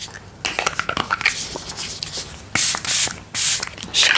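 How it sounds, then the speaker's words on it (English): Several short hissing bursts of makeup setting spray, the last few louder and longer, among light handling and rustling noises close by. "I need some new setting spray."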